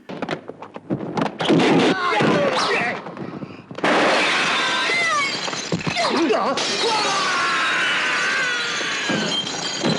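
Glass panes shatter during a fight scene in the 1985 martial arts film Yes, Madam!, with loud crashing and breaking bursts, thuds and impacts over a dense background of film soundtrack and voices.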